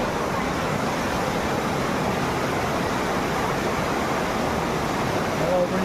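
Steady broadband rush of river water flowing, continuous and fairly loud throughout, with no distinct voices.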